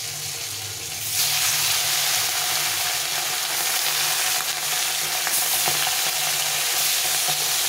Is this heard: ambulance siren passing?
no